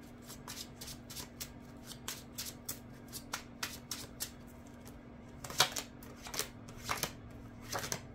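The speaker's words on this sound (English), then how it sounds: "I'll take four cards from a reader's fan." Tarot cards are drawn one by one from a reader's fan, making a string of soft, crisp card slides and flicks with short pauses between them, close and fairly quiet over a low steady hum.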